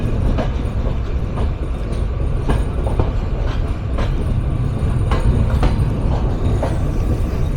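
The Chitra Express moves along the rails near Chatmohar railway station, a steady loud rumble with faint periodic wheel clicks and no voices.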